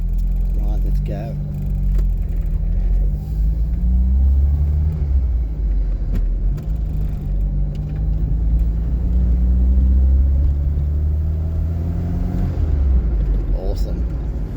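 An Austin Princess car driving off for its first drive in ten years, with a low steady engine rumble and gear changes that rise and fall, while people talk over it throughout.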